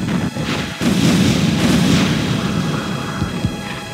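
Artillery barrage in the Twisted Insurrection strategy game, a dense rumbling spread of booms and sharp blasts lasting the whole few seconds, loud and continuous with a few distinct impacts standing out.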